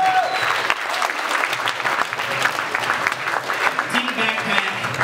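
A crowd claps and applauds steadily for several seconds, a dense wash of hand claps with a few voices mixed in.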